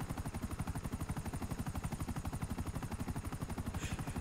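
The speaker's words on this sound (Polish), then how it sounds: "ten helikopter to na pewno jest wasz" A helicopter in a role-play video game, its rotor thumping in a fast, steady, loud rhythm that fills the whole stretch, with no talk over it.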